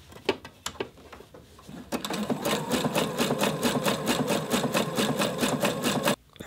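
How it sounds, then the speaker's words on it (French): A sewing machine runs steadily for several seconds stitching lingerie elastic, a close, loud, rapid mechanical whir with even needle strokes after a few short starts, then stopping abruptly. "je le maintiens en place et je poursuis ma couture"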